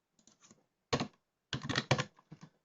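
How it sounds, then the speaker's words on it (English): Fingers type on a computer keyboard, close by, in quick clustered bursts of clacking keystrokes separated by brief silences, with no talking. "go in here and type in line height"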